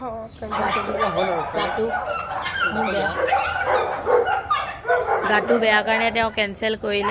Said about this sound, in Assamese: কুকুৰকেইটাই ভুকিছে